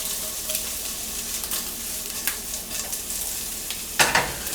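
Sausage frying in a skillet, a steady moderate sizzle with occasional stirring scrapes and a sharper clatter near the end.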